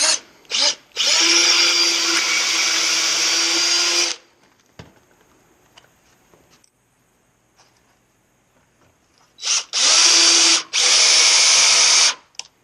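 A power drill drives 2.5-inch and 3.5-inch screws into wooden sawhorse boards, whining loudly in two sustained bursts with a long quiet gap between them, close up and with no talk.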